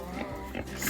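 Pigs in a pig pen during evening farm chores give short, close grunts and oinks in quick succession, heard at close range over background noise for under a second.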